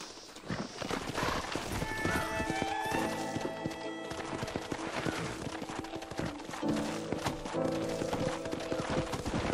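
Horses in the Western video game Red Dead Redemption, with rapid hoofbeats clopping over a busy game soundscape, a whinny rising briefly and music or effects layered throughout.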